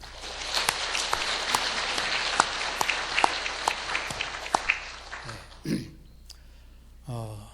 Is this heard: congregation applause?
yes